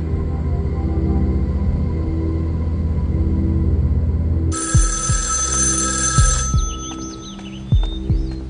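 A telephone rings with a bright, shrill electronic trill that cuts in over a steady low rumble, accompanied by a few dull thumps, close and fairly loud.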